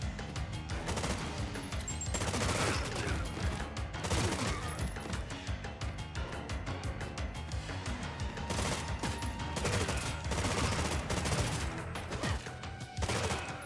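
Sustained rapid minigun fire from a Resident Evil video game boss stage, loud and continuous for the whole stretch with dense crackling bursts layered over game music and effects, no talking.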